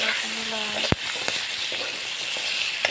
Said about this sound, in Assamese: তাৰপিছতে মাংসখিনি দি লৰাইছোঁ